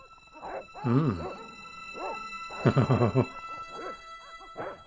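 Dogs in the point-and-click video game Broken Sword bark and yelp in short bursts, two loud clusters of harsh, tonal barks with quieter yips between, heard close with a steady hum in the background.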